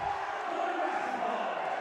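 High school basketball crowd jeering after a player throws up an air ball, a loud, continuous roar of voices in a gym lasting under two seconds.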